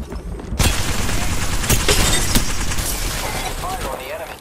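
Dense, loud Apex Legends gunfire fills the scene, a sustained barrage with booms, while game voice lines play over it.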